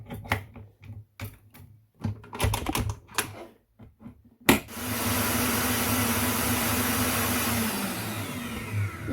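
Mixer with a whisk beating chocolate ice cream mixture in a bowl, first a run of sharp clicks and taps, then a loud sudden start into a steady whirring hum that holds to the end.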